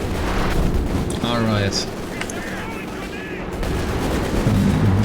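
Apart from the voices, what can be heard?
strafing support gunfire in a video game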